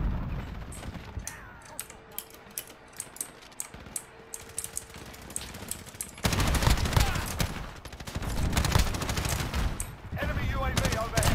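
Gunfire in the video game Call of Duty Modern Warfare, first sparse sharp shots and clicks, then dense rapid automatic bursts that grow loud and continuous, with faint keyboard tapping in the background.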